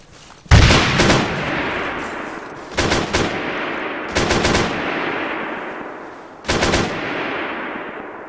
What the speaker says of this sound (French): on a pris des tirs à l'avant. Stop le véhicule, on prend des tirs.